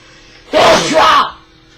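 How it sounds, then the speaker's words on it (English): A single sharp, loud sneeze bursts out, breathy and explosive, lasting under a second against a quiet background. "I didn't expect to sneeze."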